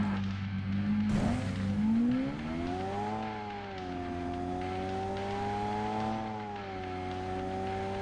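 A car engine roars and revs through shifting pitches in the mobile battle game PUBG Mobile, holding a steady, loud drone with rising and falling tones during a race.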